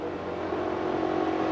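A Ford Falcon Auscar race car engine howls steadily at speed on the circuit, a continuous close-up drone that swells slightly over a brief moment.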